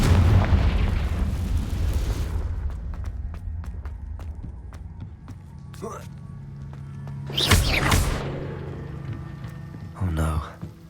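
Confringo fire spell blasts in Hogwarts Legacy: a heavy rumbling explosion fades out, then a sharp crack and a second loud burst follow, with another impact near the end, amid game sounds and a voice.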